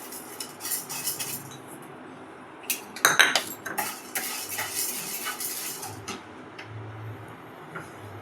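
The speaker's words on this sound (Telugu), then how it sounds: "మనం స్టవ్ ఆన్ చేసుకొని కందిపప్పు వేయించుకుందాం." Toor dal being dry-roasted and stirred in a pan on the stove, heard as scattered metallic scrapes and clinks of a spoon against the pan, with a brief cluster of sharper knocks partway through, fairly quiet and without speech.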